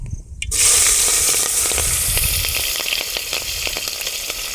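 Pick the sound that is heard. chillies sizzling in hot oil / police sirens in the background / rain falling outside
chillies sizzling in hot oil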